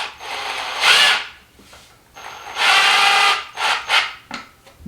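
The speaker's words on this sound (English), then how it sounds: "So I'm just gonna use the drill to get them through." A power drill drives screws through tight holes in wood for DIY hanging wall shelves, running in two long loud bursts and then a few shorter revving pulses close up.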